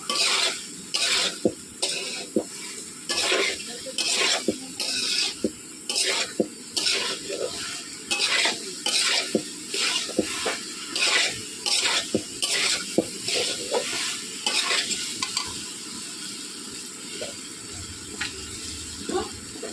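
Chickpeas and potatoes fry in a pan while being stirred, with steady sizzling under repeated rhythmic scrapes of a utensil against the metal, close and fairly loud for most of the stretch before the stirring eases near the end.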